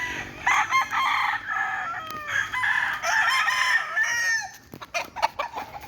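A gamefowl rooster at a game farm in Batangas crows loudly and close by, its long rising call filling most of the moment, followed by scattered clucks and farmyard noise with no talk.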